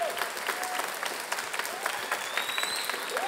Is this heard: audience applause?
yes